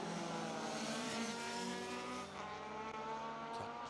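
Rally car engine roaring close and loud on a circuit stage, a father-and-daughter crew in car 49 at the Alan Healy Memorial Rally, with steady high revs and gear changes throughout and brief tyre noise.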